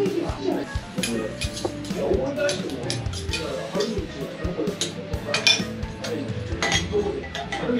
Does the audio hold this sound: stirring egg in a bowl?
yes